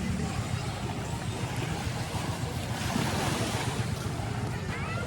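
Sea surf at Pasir Panjang beach in Lingga rolls in as a steady, dense wash, with wind buffeting the microphone throughout and no clear breaks between waves.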